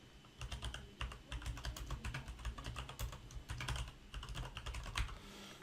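Steady, rapid typing on a computer keyboard, dense clicking keystrokes running continuously and close up without any voices.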